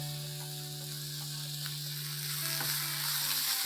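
Spices for chicken masala fry and are stirred in a pan, a soft continuous sizzle with scraping stirs and occasional light clicks over a faint steady hum, with no speech.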